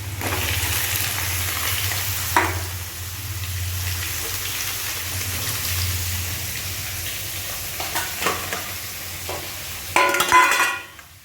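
Chopped papaya sizzles loudly in a hot pan of oil, a steady close frying hiss broken by a few sharp scrapes of a spatula stirring, then a busier clatter of stirring near the end; no one talks.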